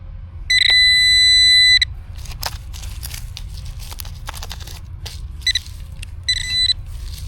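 A handheld metal detector in a wooded area beeps with sharp, high electronic tones over a metallic rock, one long steady tone then shorter bursts, over constant low hum and rustling.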